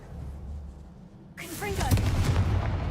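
Confringo blast spell smashing a barrier in Hogwarts Legacy, a sudden burst halfway through after near quiet, with crackling sweeps and a rumbling tail, loud and close.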